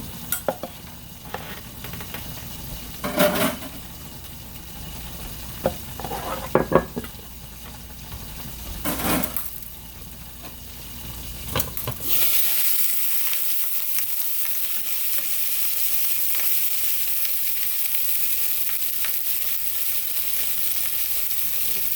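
Sliced okra frying in a pan, a steady bright sizzle that swells louder after a few stirs and scrapes of a utensil, then hisses on continuously without any talk.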